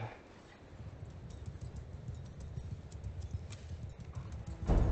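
Horses' hooves in Mount & Blade II: Bannerlord, a steady muffled clatter of many hooves from cavalry moving forward, with a louder thump right at the end.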